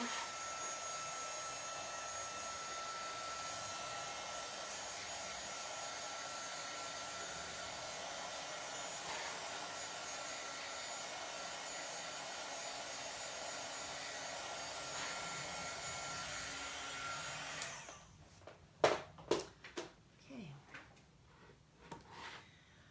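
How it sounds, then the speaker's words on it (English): An embossing heat gun blows a steady, even whirring hiss for about eighteen seconds while drying chalk paint on a lantern, then shuts off, followed by a few sharp clunks and knocks. "This is just an embossing gun, a heat tool."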